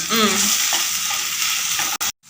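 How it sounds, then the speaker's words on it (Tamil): Tomatoes and onions sautéing in a pan for a home-cooked vegetarian soya dish, a loud, close, steady sizzle with stirring, no talk, cut off abruptly near the end. "நல்லா வதங்கட்டும்"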